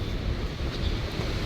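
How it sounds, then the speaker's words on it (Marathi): Roar of Thoseghar waterfall, the tallest waterfall in Maharashtra, heard in rainy weather as a steady, dense rush with heavy wind buffeting the microphone and no voices. "आता धबधब्याचा आवाज चालू झाला आहे मित्रांनो"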